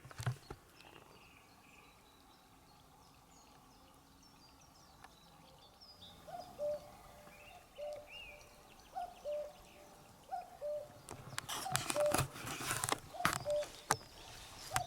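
A bird repeats a short call at steady intervals over quiet night ambience, moderately close, with a burst of broadband noise near the end.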